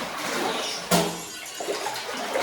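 Floodwater inside a house sloshes and rushes in a steady, close wash, with one sharper splash about a second in.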